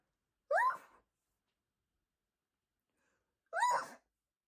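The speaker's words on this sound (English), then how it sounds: "I'm gonna sneeze." Two short, sharp sneezes, a few seconds apart, each followed by silence.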